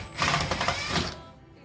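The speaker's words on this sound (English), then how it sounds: "So using my trusty electric screwdriver, we're just going to start removing these screws." An electric screwdriver whirs loudly as it backs screws out of a Kenwood range oven during a selector switch repair: a short buzzing motor run that stops abruptly after about a second.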